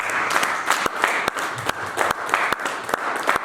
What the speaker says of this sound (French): Acclamez.